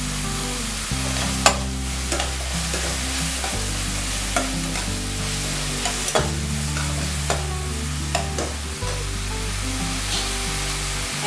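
Tomato paste sautéing in a pan with spices, giving a steady close sizzle and frying hiss with occasional stirring clicks, alone without talk, alongside a low background musical hum.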